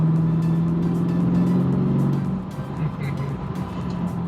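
Brand-new Chevrolet C8 Corvette Z51 with its American V8 in sport mode, a steady low engine hum and road noise from inside the car, easing slightly partway through, with a voice talking over it.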